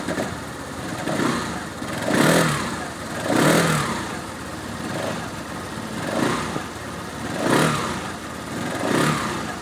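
A Kymco Dink Street scooter's small engine runs steadily and is revved several times in rising and falling surges, close by, with no voices.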